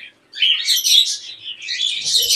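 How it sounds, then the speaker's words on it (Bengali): Budgerigars in a bird shop chatter in a dense, continuous stream of high twittering chirps, several birds at once and fairly loud, with a short lull near the start. "ওখানে হোয়াইট জাবাও আছে, ব্ল্যাক জাবাও আছে, এখানে কিছু বাজিগার আছে"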